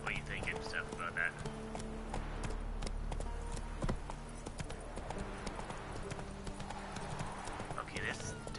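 Roach the horse clip-clops along in The Witcher 3, hooves beating a steady rhythm at close range while someone talks over them and a brief whinny cuts in.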